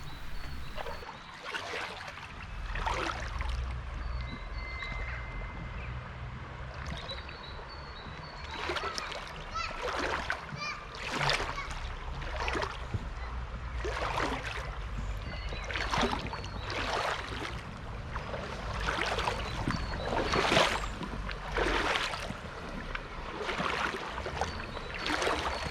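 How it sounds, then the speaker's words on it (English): Wellington boots wading through a gentle, shallow stream broken by small weirs, with steady rushing water and repeated sloshing splashes from each step, fairly close. "Welly's on. Let's go for a wade."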